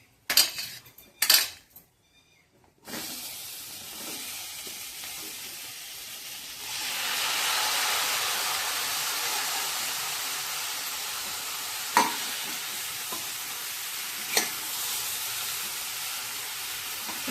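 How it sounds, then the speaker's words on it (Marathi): Raw green tomatoes tip into a pan with a couple of clattering knocks, then a soft sizzle rises and a spoon scrapes and taps now and then while they are stirred, with no talking. "आता आपण टोमॅटो टाकणार आहोत."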